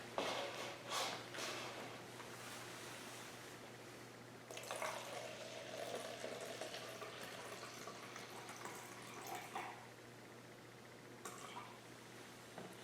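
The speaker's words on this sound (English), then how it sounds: "So I'll add 210 mils of water." Water pours steadily into a container of Trinic H sealer, a soft continuous splashing stream that changes tone partway through, with faint handling noises.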